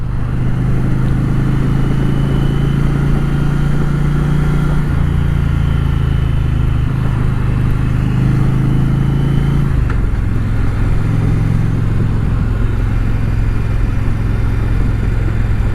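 An Indian Challenger Dark Horse motorcycle cruises in fourth gear at around 40 mph, its engine a steady low, loud drone with wind rush and slight shifts in pitch, no talking.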